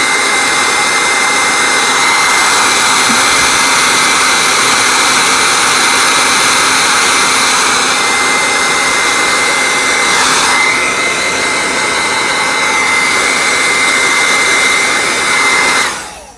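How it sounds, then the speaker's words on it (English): A heat gun blows close and very loud as it shrinks heat shrink tubing on blower terminals, a steady hissing roar that runs the whole time and then cuts off abruptly at the end. "Then we grab some heat for our heat shrink tubing."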